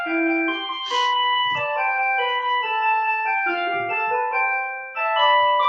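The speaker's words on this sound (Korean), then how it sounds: "종소리 죄송합니다." A school bell chime plays a sustained melodic tune of clear ringing tones, loud and continuous, with no talking over it.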